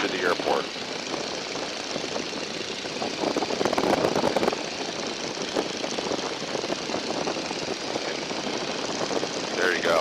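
A 1942 Boeing Stearman biplane's radial engine drones steadily in flight, a constant loud rumbling hum filling the cockpit throughout.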